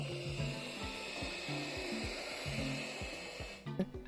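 Constant airy blowing of a heat gun used on a planner craft, steady and close, with faint tapping and shuffling underneath.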